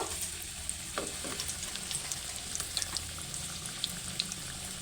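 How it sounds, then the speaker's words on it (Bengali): Battered pieces coated in gram flour shallow-fry in hot oil, a steady close sizzle and fine crackle with a couple of soft clinks near the start, fairly quiet throughout. "এটা শ্যালো ফ্রাই করব আর কিছু বেসনে ভাজবো ভালো করে ভেজে নেব"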